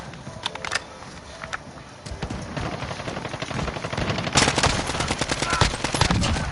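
Dense automatic gunfire in a PS4 military shooter game, rapid bursts and single shots that grow louder and more continuous, with clattering reports over a busy battle backdrop.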